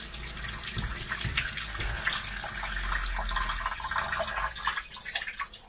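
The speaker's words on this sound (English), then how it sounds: "The new faucet head ended up filling up the bucket in 4 minutes, whereas the old one filled it up in 3 minutes and 40 seconds." Water streams steadily from a low-flow RV shower head into a bucket, a continuous splashing rush with small sputters and no voices.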